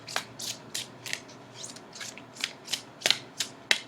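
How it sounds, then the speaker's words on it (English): Tarot cards being shuffled by hand, a series of about a dozen crisp riffling bursts at a steady rhythm, close and fairly quiet with no talk. "I'm just shuffling for Pisces"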